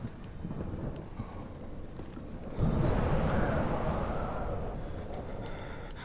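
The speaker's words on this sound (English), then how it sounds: "Gust of wind." A gust of wind rises in the horror game Amnesia: The Dark Descent, a low rumbling whoosh that surges suddenly midway and then sustains, swelling and fading, over a quieter ambient bed.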